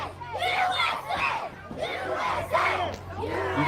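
Loud wrestling-match crowd chanting and yelling in unison, rising and falling in surges across the whole stretch, with a steady low hum beneath.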